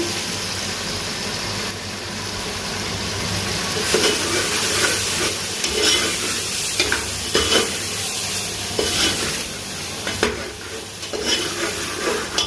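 Tomato, onion, ginger and garlic fry in a pan with a constant sizzle, punctuated by repeated scraping stirs of a spoon against the pan, close up and without any voices.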